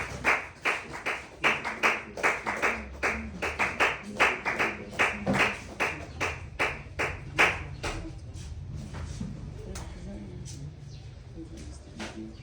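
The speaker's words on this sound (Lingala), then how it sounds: "tu acclames fortement pour Dieu" A church congregation applauding for God, a rapid rhythmic burst of hand claps that builds and then fades out, with voices mixed in among the clapping.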